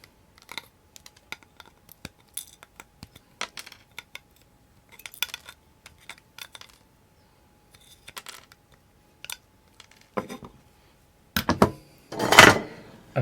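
Small flush cutters snipping the excess legs off resistors and a diode on a Raspberry Pi Pico Mac 128K kit board, a scattered series of sharp, quiet clicks close up, followed by a louder cluster of rustling clatter at the end.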